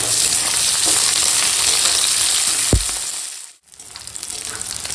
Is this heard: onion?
yes